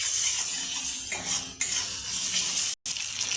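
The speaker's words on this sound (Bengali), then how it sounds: "ভালো করে কষিয়ে নেবো মশলাটা" Spice paste of turmeric, chili and cumin powder fries in a pan, a close sizzle with scraping and clinking of a spoon as it is stirred, cut by one brief silent gap.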